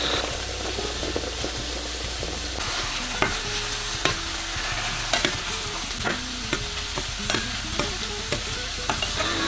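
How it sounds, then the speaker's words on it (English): Eggs being scrambled and fried in a hot pan for a breakfast cheesesteak, a steady sizzle with scattered scraping stir clicks of a utensil against the pan, close and fairly quiet, with no talking. "add in your eggs to cook. I personally like them scrambled"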